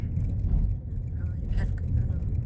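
Road rumble fills the cabin as a car drives over a rough, noisy outback road toward Wooleen Station, a steady low roar under a voice talking.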